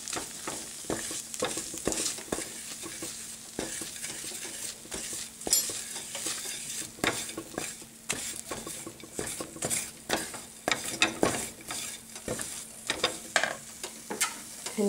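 Chickpea flour being stirred and fried in a pan, with a spoon scraping and clinking against the metal over a low sizzle; irregular close strokes and taps, no talking.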